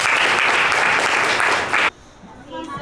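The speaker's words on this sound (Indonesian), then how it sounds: "Oke, tepuk tangan untuk kelompok 1." A classroom of students claps for a presenting group, a loud, brisk burst of applause that stops abruptly near the end, after which a voice begins speaking in the quieter room.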